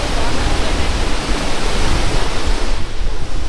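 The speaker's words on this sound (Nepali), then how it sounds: "ऊ त्यहाँ झरना छ तर यो चाहिँ मेन झरना होइन" A waterfall beside a mountain hiking trail gives a loud, continuous broadband roar of rushing water, steady and close, easing slightly near the end.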